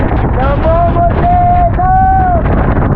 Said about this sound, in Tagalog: Ang lakas na ang hangin.